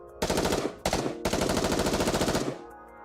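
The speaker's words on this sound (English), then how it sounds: "is promptly assaulted by a hail of gunfire to its core." Rapid bursts of automatic gunfire in Goddess of Victory: Nikke, three loud strafing volleys into a Rapture's core with brief gaps, close and forceful before cutting off.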